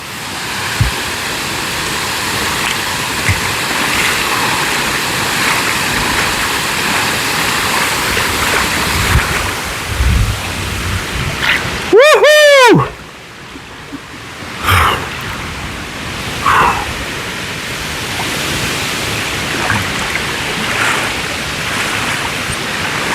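A waterfall pours into near-freezing water, making a steady loud rushing roar that stays constant throughout, with a brief burst of tonal chirping sounds near the middle.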